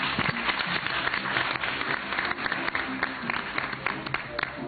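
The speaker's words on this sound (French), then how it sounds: "On peut les applaudir." Studio audience at a French-language youth quiz show in the DRC applauding the candidates after their scores are read, with dense, steady clapping from many hands filling the whole stretch at moderate volume.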